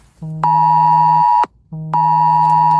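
A phone emergency alert for a dust storm warning blares indoors: two loud, sustained electronic tones, each stepping from a low buzz up to a higher pitch, with a short gap between them.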